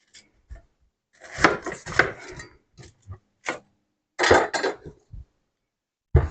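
A knife chopping through the leafy crown of a pineapple for a Hawaiian pina colada bowl, heard as a few close, crisp cuts and thuds in short bursts with quiet gaps between.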